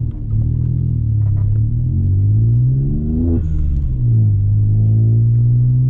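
A Stage 3 tuned VW Up TSI with air suspension, a light 950 kg car, rumbles loudly and steadily from close range, its deep engine note rising briefly in a short rev before settling back to a low idle.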